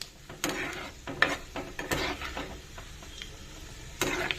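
Mustard and other tempering seeds fry in hot oil in a pan while bitter gourd pickle is being made, giving a soft, steady sizzle with scattered light crackles and a few metallic scrapes of a utensil against the pan.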